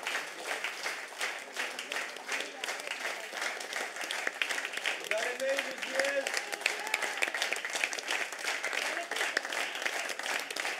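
Dense, sustained applause rises from the audience at a live literary show and continues steadily throughout. A voice briefly speaks partway through the clapping.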